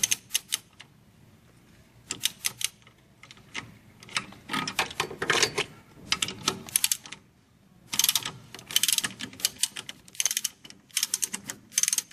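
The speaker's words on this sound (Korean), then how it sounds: "옆에 있는 나사 몇미리예요 이게 17mm요. 네, 탈거해 주세요." A ratchet wrench loosens a 17 mm bolt while a Grandeur XG shock absorber is removed, giving quick bursts of sharp clicking with short pauses between them, close and fairly loud with no talk.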